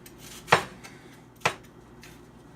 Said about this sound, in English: So we're just gonna chop the onion